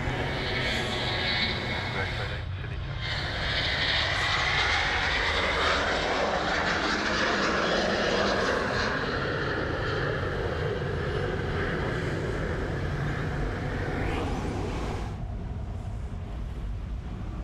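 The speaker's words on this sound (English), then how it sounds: "So the 330 going out to the north there is off to Perth, Qantas 643." A Qantas Airbus A330 airliner departs Sydney Airport, its jet engines a loud, broad steady roar that swells and then eases away, with voices talking over it.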